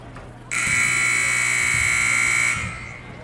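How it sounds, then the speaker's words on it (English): A loud, steady electronic buzzer blares for about two seconds in a high school girls' basketball championship gym, a flat sustained tone over crowd murmur and soft thumps before it fades out. "As the buzzer will sound"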